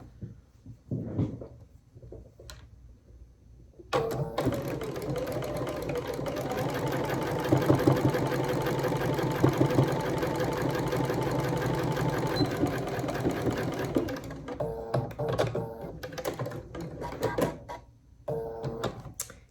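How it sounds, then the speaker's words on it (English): Sewing machine stitching a 3 by 1.5 inch quilt fabric strip: a steady, fast mechanical whir and rapid needle clatter running for about ten seconds, framed by shorter bursts and pauses before and after. "we're going to sew this on the end as such, just like this"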